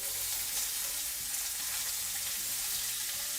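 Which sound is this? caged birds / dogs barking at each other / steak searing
steak searing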